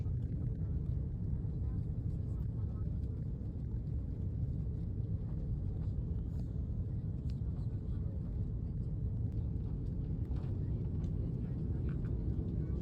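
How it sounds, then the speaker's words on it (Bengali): Inside a Turkish Airlines airliner on its landing approach into Berlin, a steady, dense cabin roar dominates throughout, low and unbroken, with a few faint clicks on top. "সো ফাইনালি আমরা ল্যান্ডিং করব এখন বার্লিনে অলমোস্ট"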